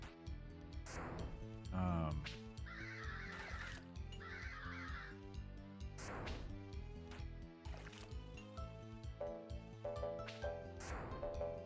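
Crows caw repeatedly in a dungeon crawler video game, harsh calls recurring amid busy game music and effects, with a voice talking over much of it.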